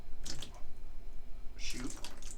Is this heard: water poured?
yes